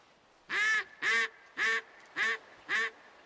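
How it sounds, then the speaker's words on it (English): A duck in the hunting game Way of the Hunter quacks five times in an even, evenly spaced series, each call loud, nasal and close against a quiet background. "I heard a duck"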